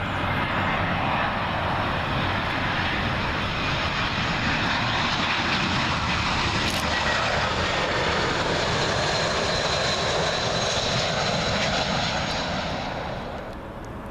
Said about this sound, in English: Next up will be another A319 for British Airways, but this one coming in from Stuttgart